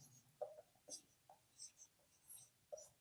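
Short, sparse pen-on-paper scratches while an equation solution is written out, a few faint strokes separated by quiet gaps.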